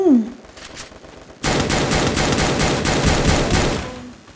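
Gunfire in the shooter game Free Fire: after a brief tonal game sound, loud rapid automatic fire erupts close up and continues for almost three seconds in a dense, rattling stream.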